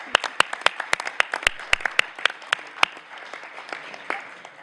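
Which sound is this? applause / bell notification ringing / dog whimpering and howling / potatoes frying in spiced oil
applause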